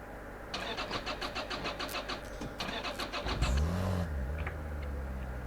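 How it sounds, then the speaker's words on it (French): In the video game Drive Beyond, a car's starter cranks in a rapid rhythmic chug for a few seconds before the engine catches. It then revs briefly and settles into a steady idle, all at moderate volume. "J'ai cru qu'elle a pas redémarré."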